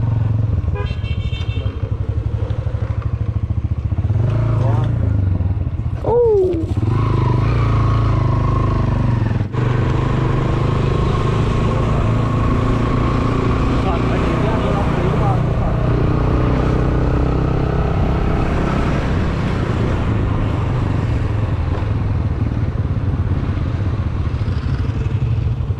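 A motorcycle engine drones loudly and steadily while riding near Mangla Fort in Mirpur, Azad Kashmir, with road rumble and wind, and a short horn-like tone partway through.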